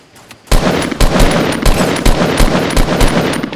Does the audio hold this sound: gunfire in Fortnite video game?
yes